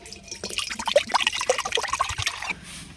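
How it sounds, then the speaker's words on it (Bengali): Water is poured into a wok for soft chitoi pitha, giving a close, steady splashing and trickling stream for about three seconds that tails off at the end. "এবার দিয়ে দেব কড়াইতে আগে জল।"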